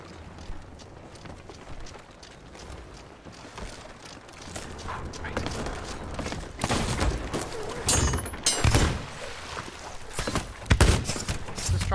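Cannon fire in a Sea of Thieves ship battle: a dense stream of booms and impacts that grows louder and busier over time, with several strong bursts toward the end.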